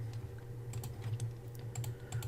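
Quick keystrokes on a computer keyboard entering an Excel formula, a run of soft, close clicks at an irregular pace over a low steady hum.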